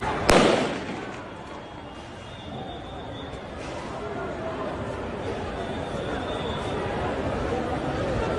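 A single sharp bang rings out near the start, like a gunshot fired into the air by plainclothes men at Kiseka Market, played back from a tape. A steady murmur of crowd noise and voices follows.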